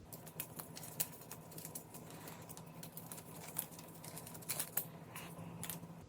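Packaging around the charging cable of AirPods Pro 2 is unwrapped, giving faint, close crinkles, soft plastic rustles and small ticking clicks in irregular bursts, with no talking.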